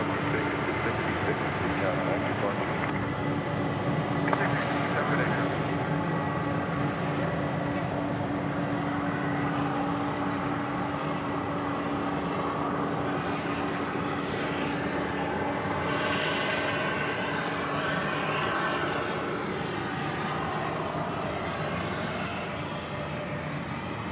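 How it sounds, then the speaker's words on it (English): A departing airliner bound for Brussels roars steadily at DFW Airport, a broad continuous engine rumble and whine that holds loud for the whole stretch and eases slightly near the end, with faint voices underneath. "this aircraft going to Brussels"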